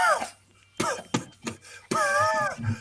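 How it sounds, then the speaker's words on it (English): One man lets out a few sharp coughs in short, separate bursts, close to the microphone, with his speaking voice between them. "That was a real cough, actually."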